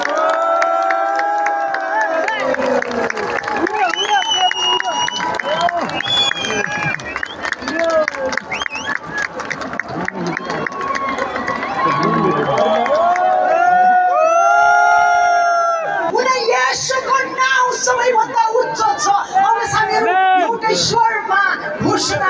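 A large outdoor crowd at an Easter rally in the Kathmandu valley cheers and shouts as balloons are released, loud and sustained, with children's voices and clapping mixed into the roar.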